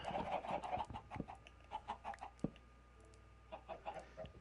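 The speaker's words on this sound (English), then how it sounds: "chickens." Chickens in Minecraft clucking in short, repeated bursts, several calls in irregular clusters, clear and close with a sharp click partway through and no speech.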